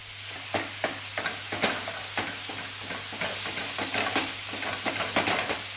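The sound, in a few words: stirring beef mince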